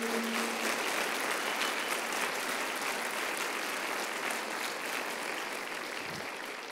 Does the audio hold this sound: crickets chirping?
no